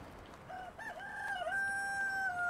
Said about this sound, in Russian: Петух, не ори